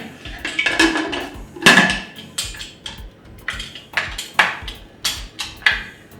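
A pressure cooker holding Kerala-style beef curry has its metal lid fitted and closed, making a series of close, ringing clanks and taps spaced irregularly, some louder and some lighter.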